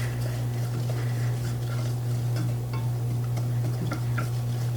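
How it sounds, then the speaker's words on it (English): Spoon stirring creme brulee coffee creamer ingredients together in a pot, giving soft, steady scraping and light clinks close by over a constant low hum, with no talking. "Let me mix these ingredients together"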